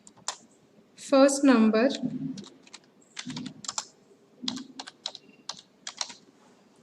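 Someone types on a computer keyboard in a Unix programming lab, a brief spoken phrase first, then a run of quick, close-up key clicks in irregular bursts.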